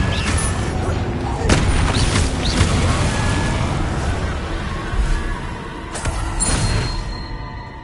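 A Confringo blasting spell explodes in the video game Hogwarts Legacy, sharp booming blasts standing out in a dense, loud wash of continuous battle noise and rumble.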